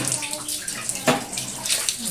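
Tap water running into a basin during wudu ablution while someone rinses their mouth, a close, steady splashing flow with a brief louder gush midway and a voice speaking over it.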